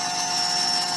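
A CNC 3040 router spindle near 10,000 RPM milling aluminium with a 3mm slot end mill, giving a steady high-pitched whine over constant cutting hiss, close and unbroken.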